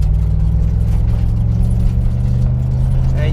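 An LT 5.3 V8 truck engine with an 8-speed transmission accelerating smoothly, a deep, steady low-pitched drone with mild road noise, heard from inside the cab without talking.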